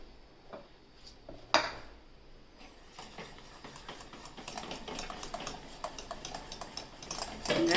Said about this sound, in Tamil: பாதி போட்டுட்டு நல்லா பீட் பண்ணிவிட்டு இன்னும் பாதி போட்டுக்கலாங்க